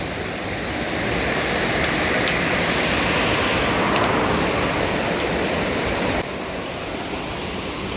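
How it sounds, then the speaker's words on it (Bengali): Water pours steadily from a bridge amid hilly forest, a broad continuous roar that stays dense and close throughout, dipping slightly near the end, with no voices. "ব্রিজ থেকে অনেক সুন্দর পানি পড়তেছে"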